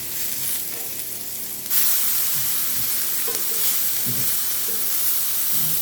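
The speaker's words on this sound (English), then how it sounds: "We're going to flip this one that's in the iron skillet because it was a little bit flatter." A smashburger flipped in an iron skillet sizzles loudly, a steady close hiss that jumps in level as the patty turns, with faint scraping thumps underneath and no speech.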